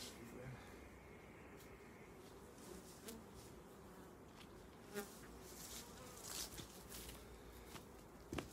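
Honey bees hum around hive frames during an inspection of a recently merged colony, a faint continuous buzz with occasional soft knocks and handling noises, and no talking.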